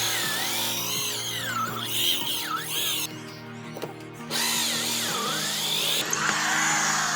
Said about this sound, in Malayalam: അതിന് ഞാൻ എടുത്തിട്ടുള്ള ഒരു 2 ഇഞ്ചിൻ്റെ ഹോൾസോ കട്ടറാണ്.